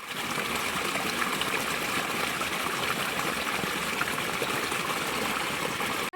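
Continuous rushing water, like a small cascade, steady and fairly close with no voices.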